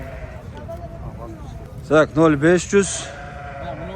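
A ram and lambs bleat at a livestock fair in Chuy near Bishkek, with four quick wavering bleats close by amid crowd murmur, and people talking around them.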